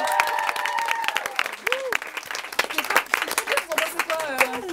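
Applause and clapping at a student Burger Quiz-style quiz game, irregular claps over a chattering, laughing crowd with voices talking throughout, close and lively.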